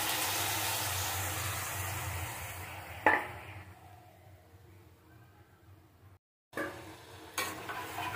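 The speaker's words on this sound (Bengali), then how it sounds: "গুড়টা আস্তে আস্তে মেল্ট হতে থাক, আমিও নাড়তে থাকি।" Jaggery melting in a pan for pineapple chutney, stirred with a steady sizzling scrape and one sharp clink partway through, followed by a brief silence and then fainter renewed stirring.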